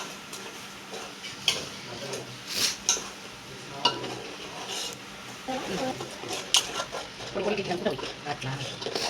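Sugar syrup for ariselu being stirred in a pan, with repeated scraping and clinking of a utensil against metal, under people talking nearby.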